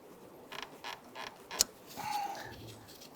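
A rubber vacuum hose is worked loose and pulled off from beneath the throttle body of a 1994-2004 Ford Mustang 3.8L V6, giving a few faint creaks and rubbery squeaks, with one sharp snap in the middle.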